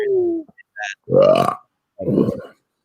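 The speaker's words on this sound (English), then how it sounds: "that was a pepper burp" A loud, close, drawn-out burp after eating very hot peppers and spicy nuts in a live-streamed spicy food challenge, rising in pitch, with a shorter rough burp following after a brief gap.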